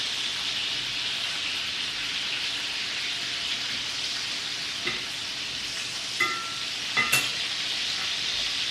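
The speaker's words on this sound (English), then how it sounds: "And check the bacon so I don't burn it." Bacon frying in a pan while pizza is being made, a steady broad sizzle with a few sharper crackles and pops near the end, close and continuous with no talking.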